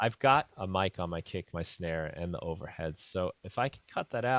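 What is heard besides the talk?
No everyday noise stands out behind the speech.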